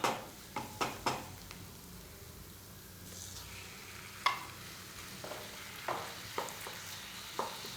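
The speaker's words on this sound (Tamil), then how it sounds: "இப்போ வந்து நம்ம அதில் மின்ஸ் மீட்டை ஆட் பண்ணிக்கலாம்." Minced lamb fries with softened onions in a pan, a faint low sizzle broken by about a dozen sharp spoon scrapes and taps on the pan, with no talk.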